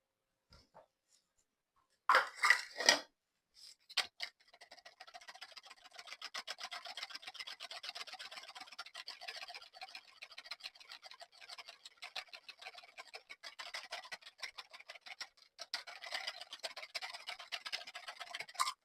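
Cocoa powder mixture is stirred in a bowl with a quick, faint, rhythmic scraping that ticks on steadily for the length of the clip, after a few louder clinks near the start.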